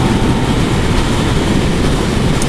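Yamaha motorcycle cruising at highway speed around 4,000 RPM, a steady dense roar of wind blast and engine drone held at constant loudness throughout, with no talk.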